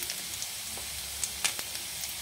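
Taro root pieces frying in hot oil in a pan, a steady close sizzle with soft crackles and a few sharper pops.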